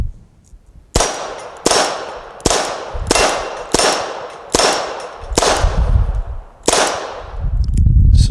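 Rapid string of sharp gunshots from a lightweight S&W Model 317 .22LR revolver, seven loud cracks spaced under a second apart, each with a short ringing decay, close to the microphone.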